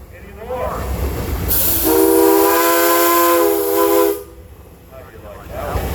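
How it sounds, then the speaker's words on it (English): A 1922 Baker steam engine at a pioneer steam engine and tractor show parade gives one loud, sustained steam whistle blast of about two and a half seconds, with a steady harmonic tone, set against outdoor crowd and engine noise. "You have a whistle."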